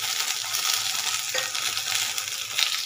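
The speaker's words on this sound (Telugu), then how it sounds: "వంకాయ ఇటు వేస్తున్నానండి చిన్నది." A small eggplant frying in hot oil for tomato roti pachadi while being stirred: a steady close sizzle with scraping and stirring clatter, no voices.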